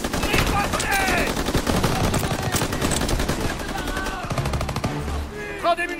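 Enemy shooters open fire in the Call of Duty WW2 video game, rapid bursts of gunfire and machine-gun rattle crackling densely and loudly throughout, with a shouted voice briefly audible amid the shots.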